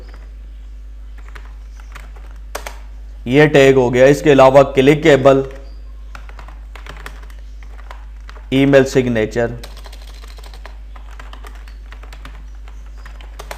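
Computer keyboard typing, short scattered taps between stretches of someone talking close by, with faint clicks continuing after the speech.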